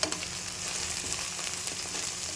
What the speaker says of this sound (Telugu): వెల్లుల్లి కొత్తిమీర చక్క లవంగాలు మొత్తం పచ్చివాసన పోయేంత వరకు వేయించుకుందాం